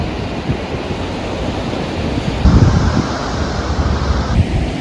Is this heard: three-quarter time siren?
no